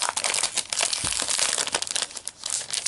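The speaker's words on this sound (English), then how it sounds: "apologize for the crinkling." Cellophane packaging from a Heartfelt Creations peacock paisley card kit crinkles and crackles in close, continuous bursts with no one talking.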